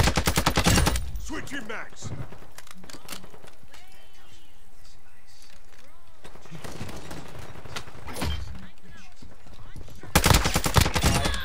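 Gunfire in Call of Duty: Modern Warfare 2. Loud rapid bursts hit at the start and again near the end, with shouted voices and quieter combat noise in between.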